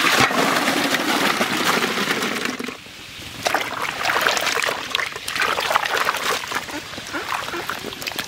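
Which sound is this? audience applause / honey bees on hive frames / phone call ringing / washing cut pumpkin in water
washing cut pumpkin in water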